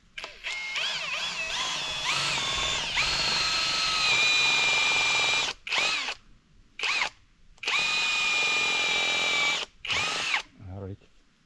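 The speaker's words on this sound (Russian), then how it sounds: "Ну, давай сверли. 5 миллиметров, да." A power drill boring a 5 mm hole into wood while building a forest cabin by a pond: loud sustained whining runs with pitch shifts, broken by short pauses and restarts.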